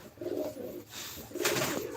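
A breeding pair of pigeons in a loft coo softly, two close rolling coos separated by a short pause.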